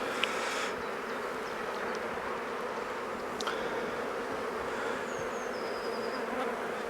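Honey bees hum steadily from an opened Maisemore poly commercial hive during an inspection, an even, continuous drone with a few individual bees buzzing past close by.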